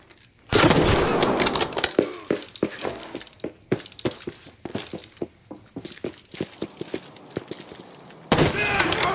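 Mosin rifle gunshots in the shooter game Arena Breakout Infinite, two loud sharp cracks that open and close the stretch, with quieter clicks and footstep-like thuds scattered between them.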